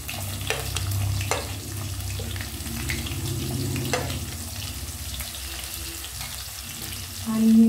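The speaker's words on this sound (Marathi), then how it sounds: "जिरे आणि मोहरी तडतडल्यानंतर आता आपण यात हे कांदे घालूया" Onions go into hot oil already crackling with cumin and mustard seeds for a green chickpea curry, giving a continuous soft sizzle with occasional stirring scrapes and clicks close by.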